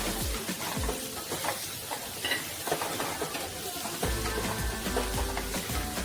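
Onions with turmeric and garam masala stirred in a pan for a Maharashtrian drumstick-leaf dish, a steady sizzle with repeated scraping strokes of the spoon, close and fairly loud throughout with no talking.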